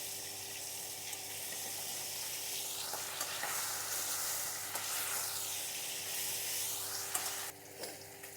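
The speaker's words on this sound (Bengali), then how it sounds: "দেখুন এক পাশ আমার ভাজা হয়ে গেছে, তো আমি উল্টে নিচ্ছি।" Small pond puti fish fry in hot oil in a pan, giving a continuous, close sizzle with soft scrapes and clinks as the pieces are turned over, and no talking.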